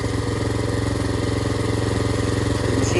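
A small gas engine on a Princess Auto powered wheelbarrow runs at a steady idle, its rapid, even putter close and loud throughout with no voices.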